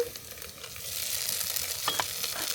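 Whole spices with ginger-garlic paste and cumin paste frying in a pan for a Bengali banana blossom and river prawn dish, a steady close sizzle with a few scraping stirs, no talking.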